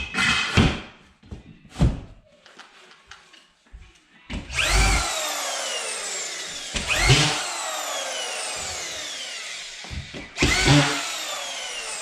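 A power drill drives screws to hang a drywall sheet, whining up in three separate close bursts amid thumps and knocks from handling the board, with no talking.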